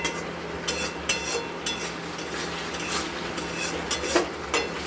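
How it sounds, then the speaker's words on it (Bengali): Spice paste for potol posto being stirred and fried in a pan, giving a steady oily sizzle broken by a regular rhythm of spoon scrapes and clinks against the pan, close and with no talking. "মশলাটা আমাদের কষা হয়ে গেছে।"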